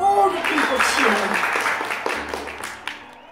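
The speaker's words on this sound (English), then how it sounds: "All the people cheering." A crowd breaks into applause and cheering, loud at first and then gradually fading over a few seconds, with voices mixed into the clapping.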